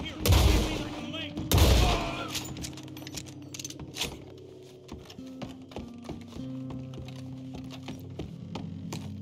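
Gunfire in Red Dead Redemption 2, two heavy booming shots near the start followed by scattered lighter clicks and pops over a low sustained hum, with no talk over it.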